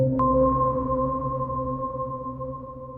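A Korg Opsix synthesizer plays a plain sine wave patch with reverb: one clean, steady tone that starts abruptly and sustains alone, its reverb tail lingering softly.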